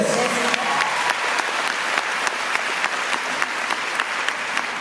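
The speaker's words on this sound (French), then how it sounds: "Bravo, on peut l'applaudir." An audience at an entrepreneur testimonial event breaks into sustained applause, a dense even patter of many hands, moderately loud and continuous throughout.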